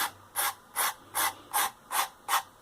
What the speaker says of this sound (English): if you have a sanding stick, then you can just actually